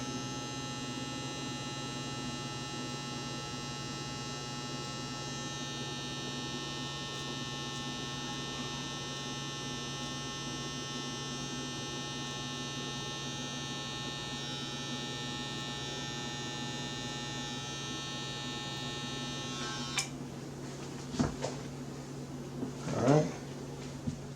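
Electric hair clippers run steadily with a bright motor whine while fading a low taper haircut, the lever pushed all the way down; near and continuous, with a few brief clicks and knocks toward the end.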